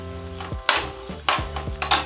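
Green chillies fry in a pan for tamarind pulihora, with a soft oil sizzle under sharp metallic clanks of a spoon against the pan, several scraping strikes spread across the moment.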